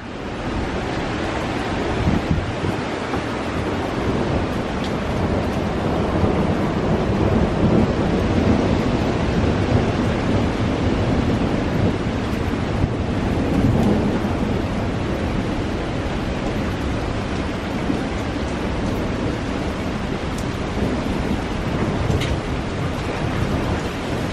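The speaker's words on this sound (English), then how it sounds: "It was lightning, thunder, and probably the worst thunder I've ever heard in my life." A major thunderstorm recorded from a front porch at night roars continuously, with dense heavy rain and wind and thunder rumbling through it. The sound is loud, close and unbroken throughout, and no voices are heard.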